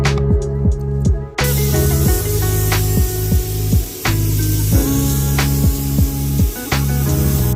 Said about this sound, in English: We're about to do a second coat of paint, which he is doing right now.